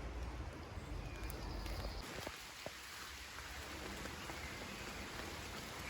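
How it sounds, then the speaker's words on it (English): Steady, dense rain hissing down, with scattered heavier drips landing nearby, continuous and fairly loud throughout. "Sheltering from some rain now, it's coming down quite heavy."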